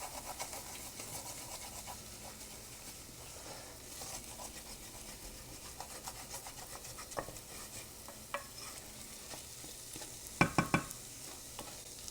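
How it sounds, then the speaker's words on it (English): Flour roux being stirred and scraped in a frying pan, a quiet continuous scratchy rasp with soft sizzling, steady throughout, ending in a few sharper clacks of the utensil against the pan. "The proteins in that flour just really like to stick to the bottom of a pan, but just keep scraping them off."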